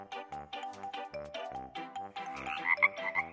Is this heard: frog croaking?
yes